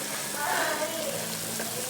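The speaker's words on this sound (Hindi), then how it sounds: "ये देखिए जी पानी हमारा बॉयल हो रहा है" Water coming to a boil in a cooking pot for beef keema pulao, a continuous close bubbling and hissing wash throughout, with no gaps.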